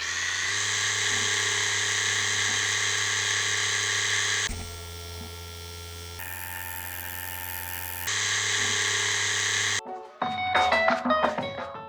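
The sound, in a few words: Spectraflux tattoo machine running at 7 volts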